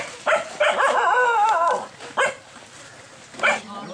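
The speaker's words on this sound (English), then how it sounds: "We've been attacked by a ferocious guard dog." A ferocious guard dog in a Balinese village barks and yelps in loud, close bursts, with a long excited run early on and shorter outbursts after pauses.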